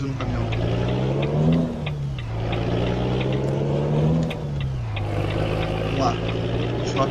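A Ford Cargo truck engine drones steadily in Euro Truck Simulator 2, its low hum rising and falling in pitch with gear changes while driving, with someone talking over it.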